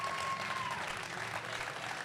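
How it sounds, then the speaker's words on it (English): A soft, steady round of applause from a live audience at a podcast champions panel, fairly distant and continuous for a couple of seconds with no talking over it. "Can we give them one big round of applause, please?"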